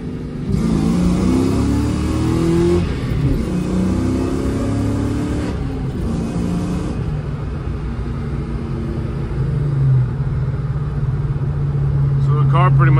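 A supercharged car accelerates with a strong engine pull and rising revs, followed by a quieter steady cruise, heard from inside the car under continuous talking.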